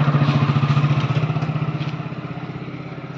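A Tafe 4410 tractor's diesel engine of about 44–45 HP runs close by with a loud, rhythmic chugging pulse that gradually eases and softens over a few seconds, with no talk.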